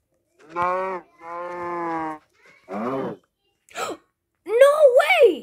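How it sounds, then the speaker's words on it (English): Cattle mooing in the Minecraft video game, several short low moos in a row followed by higher, wavering calls, loud and close with gaps of silence between them. "Cow."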